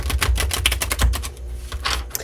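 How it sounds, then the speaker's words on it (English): Tarot cards are shuffled briskly nearby, a run of quick riffling clicks and flutters, with a short pause before a final burst. "One more good shuffle."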